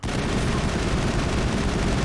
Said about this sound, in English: These are all just sniper rounds and stuff.